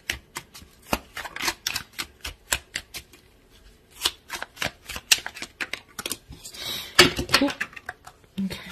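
Tarot cards being shuffled and drawn from a deck: a rapid, irregular string of crisp slaps and riffling clicks, close by, with brief pauses between bursts.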